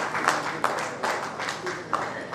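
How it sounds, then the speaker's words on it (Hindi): An audience at a Rising Rajasthan education pre-summit gathering applauds to welcome the chief minister, with soft, sustained clapping and a few sharper bursts in a large hall. "जोरदार तालियों से स्वागत करें माननीय मुख्यमंत्री जी का।"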